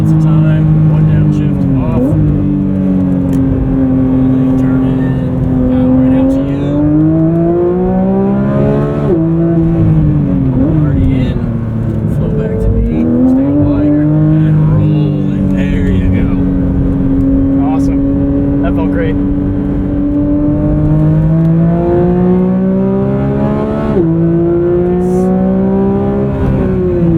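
A 2024 Porsche 911 GT3 engine pulls hard on a track at the Porsche Experience Center in Atlanta, revving up through long rising sweeps with brief dips at each shift, loud and steady from inside the car.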